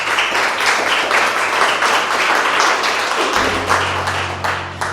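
A Spanish-speaking church congregation applauds the Lord during a morning service: continuous, full-room clapping with a rough, uneven rhythm and a low musical drone entering partway through.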